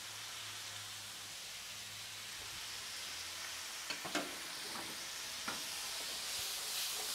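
Squid and pineapple stir-frying in a hot pan: a constant close hiss of sizzling oil, with a few sharp utensil scrapes and taps partway through.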